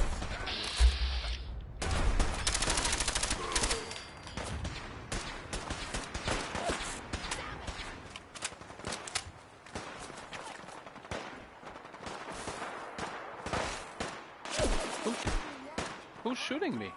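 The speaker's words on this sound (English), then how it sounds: "Who's shooting me?" Enemy gunfire in Fallout 4 comes as repeated bursts and scattered shots of varying loudness throughout, with mechanical clanks mixed in and speech in places.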